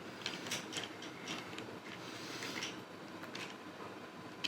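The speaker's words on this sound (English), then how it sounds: "screwing that in all the way down" A screw is driven into a part of a Leopard 2A6 model kit, giving close, quiet ratcheting clicks and creaks in an irregular run over a faint background hiss, with no talking.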